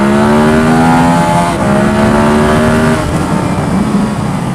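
A 2015 Ducati Monster 1200 V-twin revs loud and close, its engine note climbing and falling in repeated sweeps with no talk over it.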